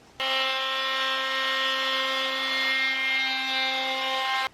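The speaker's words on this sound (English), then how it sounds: "I'm going to route out carefully the circle that has just been drawn for the outer diameter of this pipe." A router cuts a circle into a wooden board for a PVC pipe's outer diameter in a home workshop, giving off a loud, close, steady high-pitched whine that holds unbroken for over four seconds.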